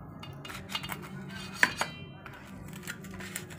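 Mashed potato with chopped raw onion being scooped onto a plate, with a spoon clinking and scraping against dishware in a few light taps and one sharper knock, quiet and close.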